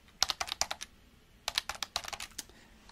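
Typing on a computer keyboard in a quiet room, with close, soft clicking bursts of keystrokes, a short pause, then another quick run of taps.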